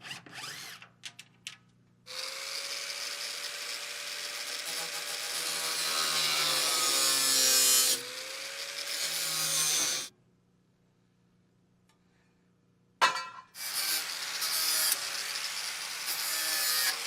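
A saw cuts through a wooden support bracket during a roof build in long continuous strokes that rise in intensity, loud and close, with a pause around the middle and a second cutting run after silence, and no one speaks.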